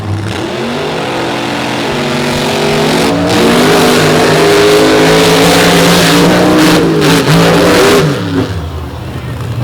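Monster trucks, among them Torque and Buckshot, racing side by side in a straight line at a beach show, their engines roaring loudly and continuously with rising, overlapping revs and gear shifts throughout.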